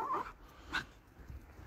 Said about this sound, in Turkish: Bir havlayıp durma.